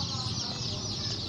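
A crowd of hybrid Sonali chicks, loaded in boxes for delivery from a poultry farm at Jamugurihat, peep in a dense, high, overlapping chatter that fills the brief moment without pause.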